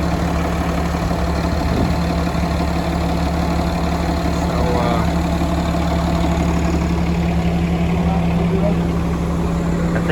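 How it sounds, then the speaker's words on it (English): Peterbilt 330 truck idling steadily with its PTO engaged, driving a hydraulic pump, a constant low drone and whine close by for the whole stretch, with people talking over it. "You can hear that PTO kick on."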